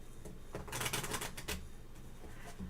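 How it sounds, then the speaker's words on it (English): Lenormand cards of a Halloween deck being shuffled by hand, a fairly quiet run of crisp riffling flutters and snaps bunched mostly in the middle, with no talk over it. "Sunny, let me shuffle, okay?"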